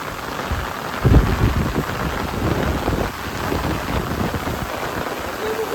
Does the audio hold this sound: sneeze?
no